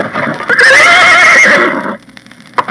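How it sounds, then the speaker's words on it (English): A horse galloping furiously down a woodland path gives a loud, close, wavering whinny lasting over a second, followed by quieter hoof clatter. "Galloping furiously down a path through the woods"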